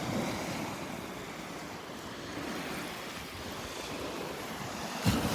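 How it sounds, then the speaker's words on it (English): Gentle surf washes up on the sand at Delnor-Wiggins beach, a faint, continuous hiss of water mixed with light wind, with a brief splash near the end. "Here comes the water, kind of sifting things for us."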